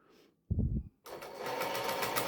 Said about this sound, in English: Put it back under the machine and then run down with a straight stitch again along the edge.